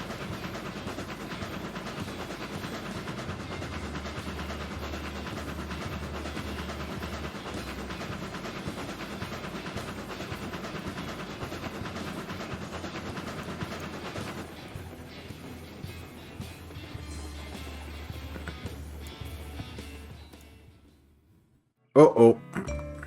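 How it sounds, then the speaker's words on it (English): A locomotive in the video game RailRoads Online runs with a steady, dense rumble and a low engine drone for about twenty seconds, then drops to near silence before a brief loud burst near the end. "This locomotive is so fast. I really hope it can pull these logs."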